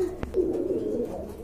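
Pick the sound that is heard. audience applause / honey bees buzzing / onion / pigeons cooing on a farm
pigeons cooing on a farm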